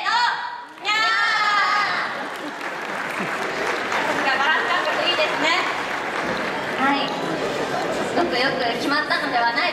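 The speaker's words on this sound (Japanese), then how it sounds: "改めて温かい拍手をお願い" Audience applause at the Kawasaki Frontale 2015 new-uniform presentation in a university hall, a sustained burst of clapping from a crowd that starts abruptly and continues steadily, with chatter and voices mixed in.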